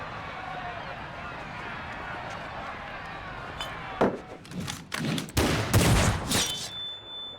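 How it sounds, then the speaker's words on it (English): Pirates trade gunfire aboard a ship in Final Fantasy XIV, with a burst of sharp, loud shots and ricochet-like cracks arriving in quick clusters after a stretch of steady ambient rumble. "Ooh, the bullets ricochet out of each other."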